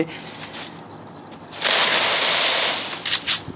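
A burst of MP40 submachine gun fire from Free Fire, a rapid, loud volley lasting under two seconds after a quieter opening, with a couple of short trailing shots near the end.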